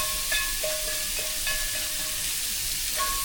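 Eggs sizzle and hiss in a well-seasoned cast iron pan with bison, a steady close frying noise with faint scraping and small clinks of a utensil, and no talking.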